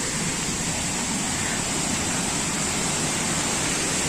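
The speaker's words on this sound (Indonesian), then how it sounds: "Tuh sungai ya, cukup besar." A constant, broadband rush of flowing water, like a large river heard close by, with no voices; a fairly large river in Belimbiang.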